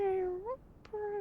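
A cat meows up close in two drawn-out, wavering meows separated by a short pause, with no other sound around them.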